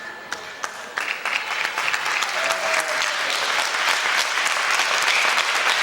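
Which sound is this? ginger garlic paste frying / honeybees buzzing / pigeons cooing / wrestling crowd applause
wrestling crowd applause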